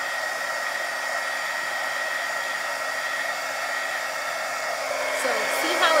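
A hair dryer blows steadily and loudly at close range, heating wet Mod Podge on a tin can door hanger, with a constant whooshing hum and no voices.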